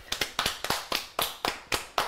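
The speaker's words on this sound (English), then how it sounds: "round of applause for the burping queens." A small round of applause from a few people, about ten distinct sharp claps in a loose, uneven rhythm, fairly close and quiet.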